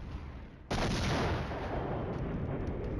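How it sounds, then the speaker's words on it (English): Mortars fire in the wargame Flashpoint Campaigns Red Storm: one abrupt loud blast after a quiet moment, followed by a sustained rolling rumble of artillery that holds to the end. "the mortars are firing"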